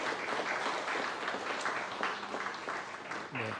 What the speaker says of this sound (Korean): 네, 박수로 축하드립니다.